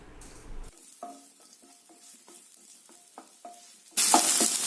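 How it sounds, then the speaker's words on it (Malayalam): Onions sauté in oil toward golden brown for a chicken curry, with a series of short, evenly spaced spoon scrapes and taps against the pan, then a sudden loud burst of sizzling near the end. "ഇത് ചെറിയൊരു ഗോൾഡൻ കളർ വരുന്നിടം വരെ ഒന്ന് വഴറ്റിയെടുക്കണം"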